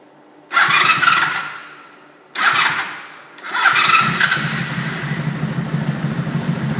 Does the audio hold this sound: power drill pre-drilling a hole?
no